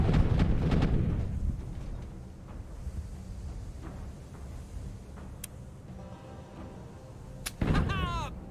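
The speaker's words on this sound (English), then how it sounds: "Ooh, 10 damage off of the mortar." Mortar fire from a ship in Tortuga: A Pirate's Tale, a heavy booming blast at the start with a rumbling tail, then quieter battle ambience and a second sharp report near the end.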